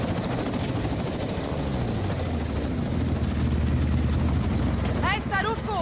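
Helicopter in the video game Call of Duty Modern Warfare 2, a steady loud rotor and engine drone filling the whole clip, with a short burst of chirping electronic or radio sounds near the end.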